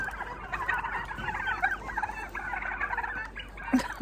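Farm turkeys gobble repeatedly in a snowy, icy setting, their close, busy calls overlapping in a steady flock chorus with no talking.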